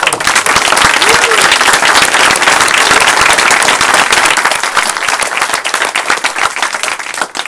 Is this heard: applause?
yes